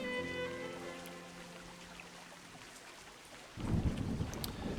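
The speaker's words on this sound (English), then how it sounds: "Can't see a thing in all this rain" Steady rain pours across windswept Scottish highland peaks in A Highland Song, a dense hiss that holds throughout, with a deeper rumble of thunder swelling up near the end.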